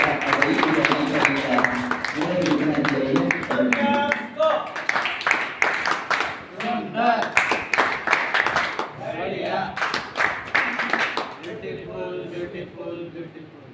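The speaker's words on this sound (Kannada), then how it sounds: "ಬಸವೇಶ್ವರ ಮಹಾದೇವರಿಗೆಲ್ಲರ ಜೋರಾದ ಚಪ್ಪಾಳೆ ಮೂಲಕ" Loud clapping from an audience at a school ceremony honouring talented tenth-grade students, with bursts of sharp, rapid hand claps that swell and fade while people talk over and between them.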